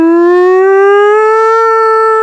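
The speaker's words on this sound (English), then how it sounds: "You hear that siren go off again." A civil defense siren wails in a D&D game session, one long steady rising tone with strong harmonics, loud and close, no talk over it.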